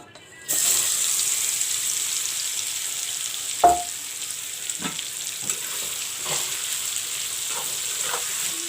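Potol (pointed gourd) frying in hot mustard oil gives a steady, close sizzle that starts abruptly and holds throughout, with a few faint knocks and stirs underneath.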